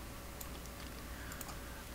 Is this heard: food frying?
no